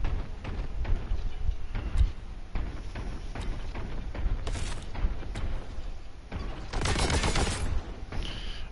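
Rapid gunfire from the Warhammer 40K: Boltgun shooter fills the whole stretch, with dense repeated shots and heavier blasts around the middle and near the end, with no talking.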